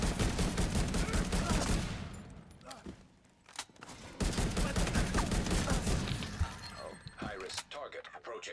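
Rapid bursts of automatic rifle fire and impacts in the shooter game Division 2, loud and dense, with a short lull in the middle before the firing resumes, and a voice speaking over it.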